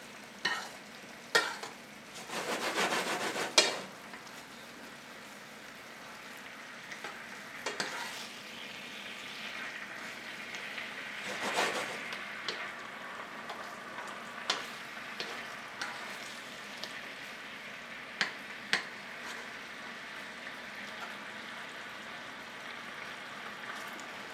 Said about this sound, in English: Just occasionally kind of baste your pork chops with the caramelized liquid of your apricot preserve and your soy sauce and your ginger